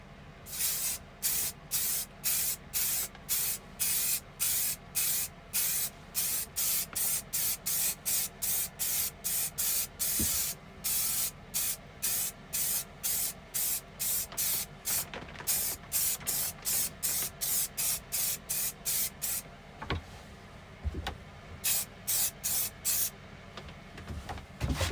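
Rapid bursts from a spray can coat an epoxy side table indoors, loud close hissing puffs repeating steadily in quick succession with brief gaps, alone without talk.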